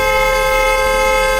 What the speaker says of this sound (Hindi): उसने तुरंत अपने पति से हॉर्न बजाने को कहा